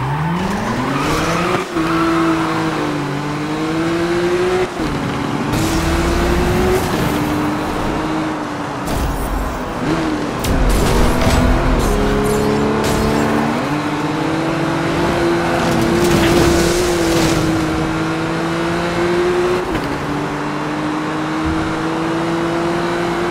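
Racing cars in Need for Speed Rivals roar and rev through gear changes with repeated loud tire squeals and skids, engine pitch rising and falling continuously over the stretch, with no speech heard.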